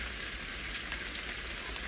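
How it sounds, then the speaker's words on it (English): Rain falls steadily in the survival crafting game Solace Crafting, a soft, even hiss of drops pattering on surfaces with no break and no voices. "And it's raining."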